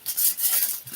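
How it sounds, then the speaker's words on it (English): Crinkly, papery crunching of aluminum foil being squeezed and rolled up tightly close by, continuous and bright for about a second. "we're just gonna start rolling it and smushing it as tight as we can."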